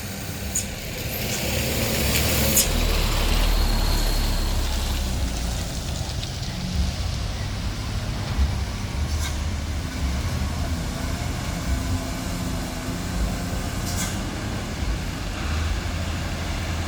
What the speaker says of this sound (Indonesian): truk Pol Diesel PT IKC sudah bersiap-siap untuk menaiki tanjakan Kedabuhan ini bosku